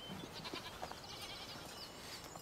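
Goats bleating on a high mountain pasture, several faint overlapping calls scattered through a steady outdoor background with no talk.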